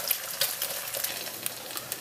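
An egg dropped into very hot oil for a Thai yellow curry crackles and spits steadily, with a bright, close sizzle and scattered sharp pops throughout.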